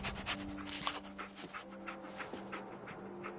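Dogmeat the dog from Fallout 4 panting rapidly in steady rhythmic breaths, quiet and close, with faint game ambience and a low musical tone underneath, no talking.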